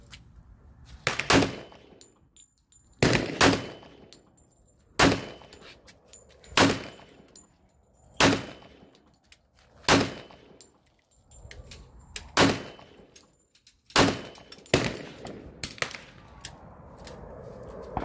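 Repeated single gunshots from an ATI FXH45 Moxie 1911 hybrid .45 pistol at an outdoor range, about ten sharp, loud reports spaced one to two seconds apart, each with a short echoing tail and no talking.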